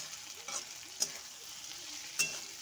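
Vegetables including tomato stir-fried in a pan for veg biryani, with a quiet, steady sizzle and three short, sharp spoon scrapes spaced apart; no voices.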